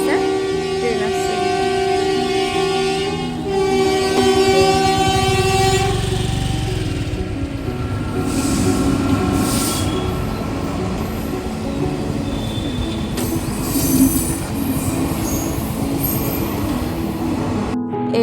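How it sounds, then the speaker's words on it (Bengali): A train rolls past a lowered railway level crossing, loud and close, its wheels squealing and horn tones sounding over a long rumbling rattle, with people talking nearby. "ট্রেন আসছে, ট্রেন আসছে।"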